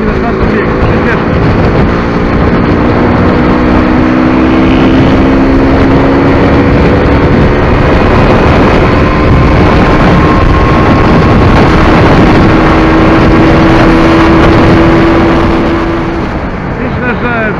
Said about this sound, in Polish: Zobaczymy, jak wygląda odkręcenie manetki na czwartym biegu. Przyspieszmy.